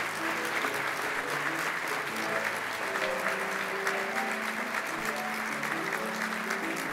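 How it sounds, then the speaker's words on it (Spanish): Sustained applause from a large crowd at a university flag-bearer ceremony, dense and even throughout, with a faint murmur of voices underneath. "con este aplauso de reconocimiento"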